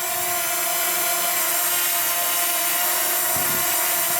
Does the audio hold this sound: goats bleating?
no